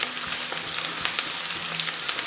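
Chopped onion fries in a skillet for beef stroganoff made with elk meat, giving a constant close sizzle and crackle with no talk over it.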